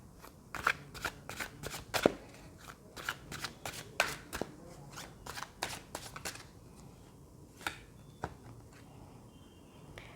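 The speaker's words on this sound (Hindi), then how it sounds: "सबसे पहले आप लोगों के लिए कार्ड्स ले लेते हैं" Tarot cards shuffled by hand in a quiet room, a rapid run of crisp riffling snaps and flicks in bursts, close and fairly soft, thinning out toward the end.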